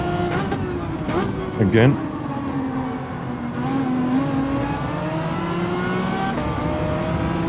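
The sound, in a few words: race car engines while overtaking, from video game Gran Turismo 7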